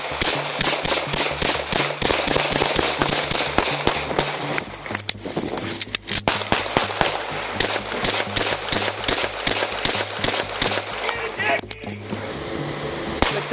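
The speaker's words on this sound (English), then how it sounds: "Next 38, well, shots fired." Gunfire erupts during a police standoff: a rapid string of sharp, loud shots crackling one after another over the whole stretch, with shouting and radio-style talk mixed in underneath.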